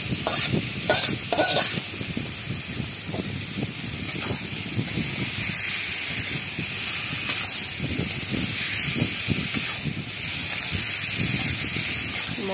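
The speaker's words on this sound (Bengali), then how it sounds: "হলুদ নুন আর লঙ্কা গুঁড়ি পরিমাণ মতো দিয়ে ভালো করে কষিয়ে নেব।" Spices with turmeric, salt and chili powder sauté in a pan for a banana and small shrimp dish, giving a loud steady sizzle with steam hiss, spatters and scraping stirs throughout.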